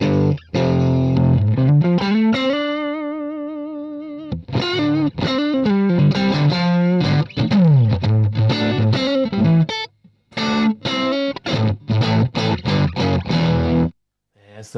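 An electric guitar plays through a Fender Super Reverb tube amp with a rectifier tube: loud, spongy phrases of sustained and bent notes, broken by brief pauses and a clear gap near the end.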